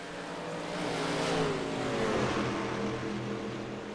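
Race truck engine running during a truck series race at Fort Worth, Texas, heard on board: a loud, continuous engine drone with rising and falling pitch as it revs.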